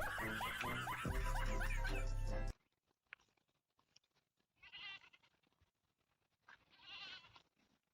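Goats bleat in two separate wavering calls in the latter half, moderately loud, after a burst of loud music that ends abruptly; faint movement noises fill the gaps between calls.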